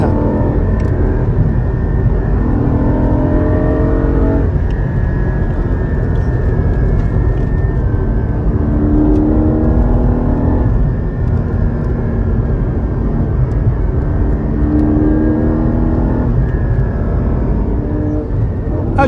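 A Porsche GT4 sports car engine drones steadily, its pitch rising and falling in repeated revving sweeps above 4,000 RPM, loud and close throughout with no talk.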